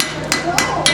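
Three sharp, evenly spaced hammer blows ring out on metal at a blacksmith's forge, a hammer ground for drawing out the workpiece, each strike loud and close over a steady background hum.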